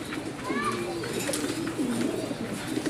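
A pair of desi pigeons gives low, rolling coos several times while people talk nearby.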